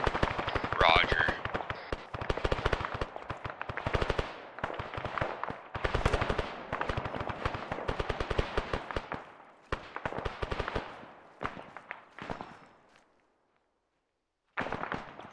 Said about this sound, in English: I hear shots though.